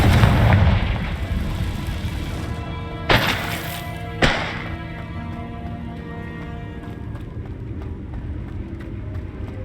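Confringo spell explosions in Hogwarts Legacy boom loudly, with a heavy blast at the start and two sharp impacts that ring out and fade over a rumbling battle background.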